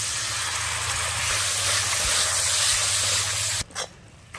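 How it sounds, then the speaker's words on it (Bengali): Water splashed into a pan of frying ginger-garlic spice paste gives a loud, steady close-up sizzle and hiss that cuts off abruptly near the end, leaving a brief clatter. "মশলা যাতে পুড়ে না যায় তার জন্য অল্প করে জল দিয়ে দেব।"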